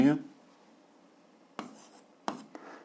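Pen writing by hand on paper while solving a seventh-grade algebra exercise, short scratchy bursts of strokes separated by pauses, close and fairly quiet, with a voice speaking briefly at the start.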